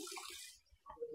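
Liquid oil runs from a single working nozzle of a four-head semi-automatic magnetic pump filling machine, a brief faint pour that stops and restarts.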